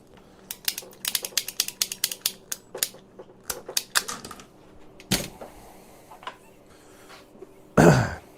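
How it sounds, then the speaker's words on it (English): Half-inch flex conduit wire being cut: a run of sharp, rhythmic ratcheting clicks from a cutting tool, then scattered snaps, ending in a louder rough crunch as it goes through. "I got to cut this wire real quick"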